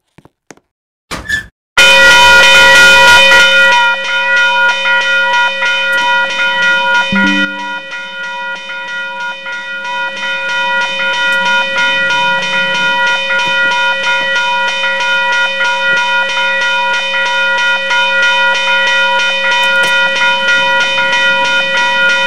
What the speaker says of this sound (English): Suburban railroad crossings with a lot of realistic railroad crossings equipment